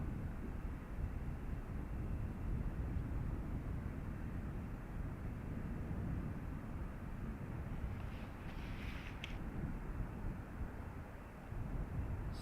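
Airliner taking off from runway 28 right at Dublin Airport: a steady, broad jet roar held at moderate distance, mixed with wind noise on the microphone, constant throughout with no talk.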